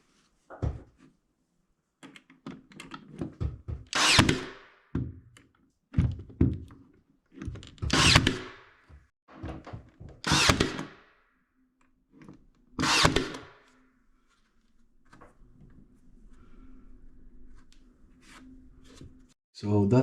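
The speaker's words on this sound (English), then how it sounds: "I will nail it with this nailer" Nailer driving nails into MDF trim, a handful of sharp, close pneumatic thunks spaced a few seconds apart, with faint handling noise and a low hum between shots.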